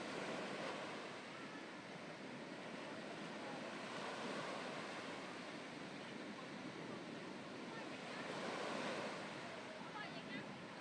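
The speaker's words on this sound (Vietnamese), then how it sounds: "sóng rì rào nhưng dồn dập, mát lạnh quấn quanh đôi chân dài của cô" Ocean waves wash onto a sunny beach in a continuous broad roar of surf, steady and fairly distant with gentle swells in loudness, with faint wind in the background.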